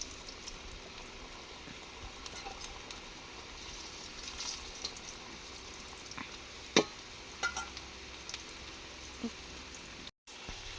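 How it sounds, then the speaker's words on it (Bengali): Potatoes frying gently in oil in a home kitchen pan, a steady soft sizzle with a few brief stirring clicks, fairly quiet and close, no voices. "হালকা হালকা করে আলুটা একটু ভেজে দিল"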